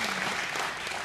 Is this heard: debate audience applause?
yes